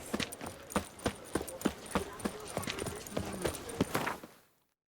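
Horse hooves clip-clopping at a steady trot in The Witcher 3, a rhythmic series of close, crisp hoof strikes with faint jingling tack, fading out abruptly at the end.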